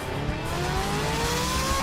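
Mini trucks race down a drag track at an MCM Mini Truck Madness event, a close, loud engine whine climbing steadily in pitch as they accelerate over a broad roar of track noise.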